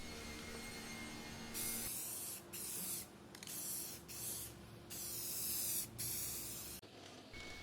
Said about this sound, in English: I can spray it with some lacquer.